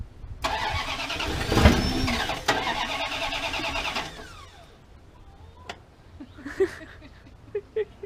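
An old truck engine cranks with a fast, rattling starter whir for several seconds, briefly catches, then dies and falls quiet, followed by a few faint clicks and knocks, close and loud.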